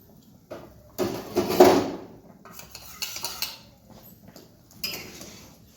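Cornflour mixed with water is poured into a pot of chicken soup, with several clinks and scrapes of metal utensils against cookware. One loud burst of clatter comes early, then lighter knocks and stirring sounds follow, close by, with no talking.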